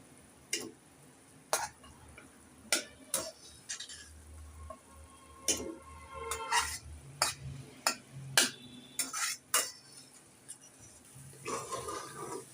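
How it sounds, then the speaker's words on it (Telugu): Gongura being stirred into biryani masala in a cooking pot: a series of sharp, irregular clicks and scrapes as a spoon knocks against the pot, fairly close, with quiet kitchen background between the knocks. "వేసుకున్నాక మొత్తం కలిసే వరకు ఇలా కలుపుకోవాలి"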